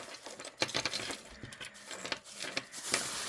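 Crinkly plastic rustling close by, irregular bursts of crackle and handling noise over a few seconds, fairly quiet, no speech.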